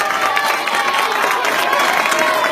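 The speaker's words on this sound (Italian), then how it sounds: "L'applauso a Pietro Di Martino" Steady applause from an audience at an award ceremony for a memorial event, a continuous dense clatter of clapping that fills the room without pause.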